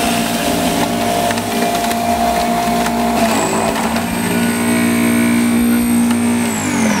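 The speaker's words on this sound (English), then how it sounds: "Now notice how quiet this juicer is compared to a lot of the other juicers that are out there." A Jay Kordich PowerGrind Pro 350-watt slow juicer grinds cucumber with a steady motor hum and crunching, crushing texture. A higher whine enters midway and continues to the end, with no talking.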